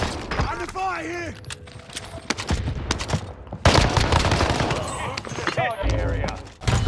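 Video-game gunfire from an Arsenault-style shooter match rattles through most of the stretch in loud, dense bursts, with a speaking voice running over the shots.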